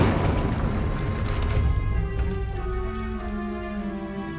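Incendio fire spell cast in Hogwarts Legacy: a loud burst with a crackling, rain-like roar that settles into a sustained humming tone as it fades, no talking.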